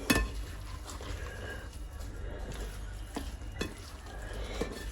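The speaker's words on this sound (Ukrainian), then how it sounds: "І так, всі баклажанчики посмажені, обсмажені гарно. Я перемішую тепер з цибулькою." Fried eggplant being stirred with onion in a pan, a low steady sizzle broken by repeated scraping strokes and light clinks of the utensil against the pan, close and quiet.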